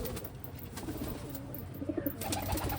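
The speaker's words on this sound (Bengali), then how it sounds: "সব হাই ফ্লাইং কবুতর।" Pigeon coos from high flying pigeons kept in breeding cages, soft low murmuring calls repeating under steady background noise, a little clearer toward the end.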